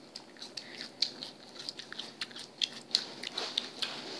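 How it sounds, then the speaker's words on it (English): Two or more people chewing and biting into their lunch, close to the microphone, giving a steady run of soft, moist crunches and clicks with no talking. "If you guys hear any chewing, it's us eating our lunch."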